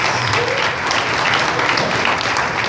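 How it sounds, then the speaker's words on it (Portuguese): Loud, dense applause fills a church as the congregation claps for a couple, a continuous close roar of hands with no pause. "Podemos dar uma salva de palmas para esse casal?"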